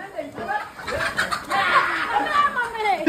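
A crowd of chickens and turkeys in a poultry section, clucking and squawking close by in overlapping calls, with a voice talking over the flock.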